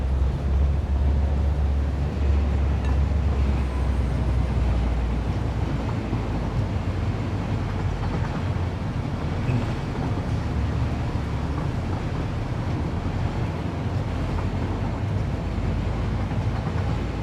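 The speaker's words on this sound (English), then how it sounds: "And another train coming." A train rolls past in the railroad simulation game Railroader, a steady low rumble with faint clatter lasting throughout, loud and continuous with no voices.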